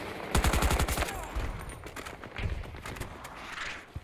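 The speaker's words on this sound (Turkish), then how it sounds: "silah sesine ne oluyor ya böyle ilk sıktığında?" Automatic rifle gunfire from the Battlefield 2042 video game, an AK5C, with a rapid burst of shots up front followed by scattered quieter shots and game ambience, no talking.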